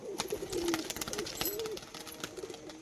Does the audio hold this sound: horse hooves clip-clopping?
no